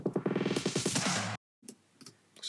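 A filtered drum fill sample: a rapid burst of tight, crisp hits in quick succession for over a second, then a sharp cut to silence, then a faint, quieter tail of scattered clicks.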